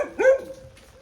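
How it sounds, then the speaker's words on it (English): A dog barks once, fairly close, outdoors at night outside a pizzeria, followed by a short fading tail and a quiet background. "It's dark and there's a dog barking"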